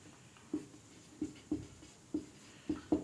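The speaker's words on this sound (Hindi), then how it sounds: "मैं शॉर्ट लिखता हूं" A pen writes by hand on paper in a classroom setting, a series of quiet, close scratchy strokes repeating at an irregular rhythm with short pauses between.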